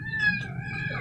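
A kitten gives a single short, high meow, close by and fairly clear, lasting about a second over faint background noise.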